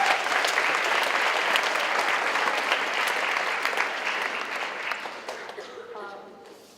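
A school assembly audience gives a round of applause, a dense steady patter of many hands clapping close by that gradually thins and fades toward the end.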